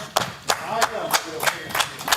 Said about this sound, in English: There was only 2 people that clapped that we could see on camera.